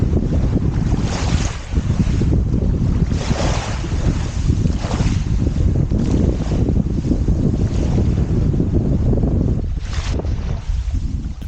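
Strong wind blows steadily across the River Blackwater estuary shore at Bradwell, where fishing lines are set as the tide recedes. Loud, continuous buffeting swells and dips in gusts, with a faint wash of water beneath.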